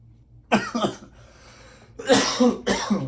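Two bursts of coughing, the first a pair of short coughs, then a pause and two harsher, louder coughs close to the microphone.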